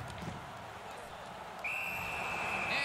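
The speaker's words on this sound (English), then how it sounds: "And freezes play for the whistle." A referee's whistle sounds loud and sustained in a hockey game, blowing steadily for over a second to stop play, heard over rink crowd noise and a commentator's voice.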